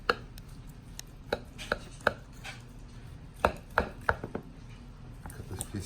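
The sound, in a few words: knife cutting porterhouse steak off the bone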